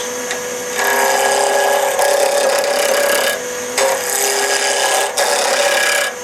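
A 3/4 roughing gouge cuts a pen blank spinning on a wood lathe at about 3,300 RPM. It makes a loud, steady, rasping scrape in several long passes, with brief dips between them and a constant whine from the lathe.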